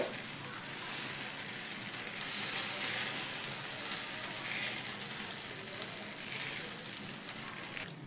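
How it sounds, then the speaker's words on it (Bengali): Thin semolina (suji) batter spread in a hot frying pan without a lid sizzles in a steady, bright hiss that holds evenly for several seconds, close and moderately quiet with no talk over it. "তো দেখো এই প্যানেই আমি দিয়ে দিচ্ছি কিছুটা পরিমাণ ব্যাটার"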